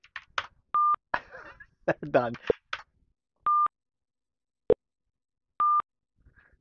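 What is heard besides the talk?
phone call dropping tones after a scam number is disconnected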